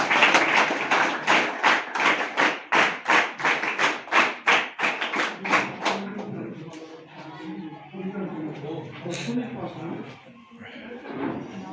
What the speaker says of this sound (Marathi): पुन्हा एकदा त्यांच्या टीमसाठी जोरदार टाळ्या वाजवा